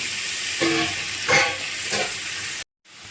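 Cut potatoes and onions frying in hot oil in a kadai, a loud, dense hiss with a couple of swelling surges as pieces are turned, then a sudden break before the sizzling picks up again.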